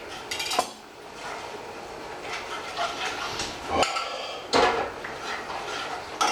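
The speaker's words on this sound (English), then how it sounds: "we just blend that right into the oil with the garlic. Use the back of your spoon to mash it in." A spoon scrapes and clinks against a pan while mashing ingredients into oil and garlic for pasta puttanesca, with a steady sizzle beneath and a few louder metallic knocks near the middle and end.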